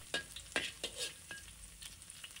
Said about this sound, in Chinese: 将南瓜放入锅中，翻炒均匀，使其表面均匀裹上油